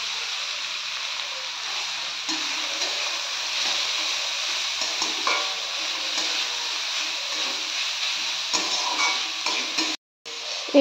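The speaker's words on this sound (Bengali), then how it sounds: "এবার আমি এই গাজরগুলো এর মধ্যে দিয়ে দেব" Carrots frying in hot ghee give a steady, faint sizzle and hiss, with occasional light stirring clicks, then a brief gap near the end.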